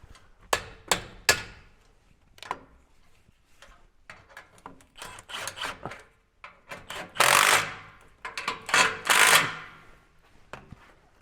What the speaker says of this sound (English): it says right here on the side of the gun, impact wrench. That means it also is a hammer.